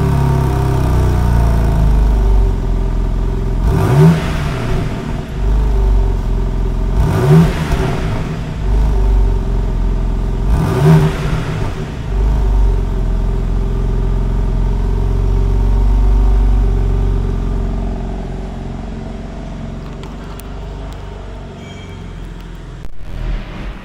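A cold, brand-new 510 hp supercar engine idles at a standstill with a steady, loud rumble, broken by three sharp throttle blips around four, seven and eleven seconds before it settles back to a lower idle.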